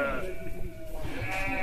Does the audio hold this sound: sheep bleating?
yes